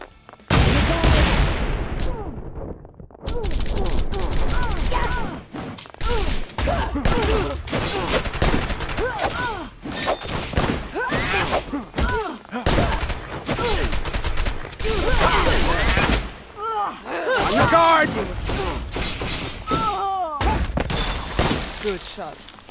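Gunfire and explosions in the action video game Wanted: Dead: dense bursts of shots and booms with shattering debris, interspersed with voices shouting over the combat.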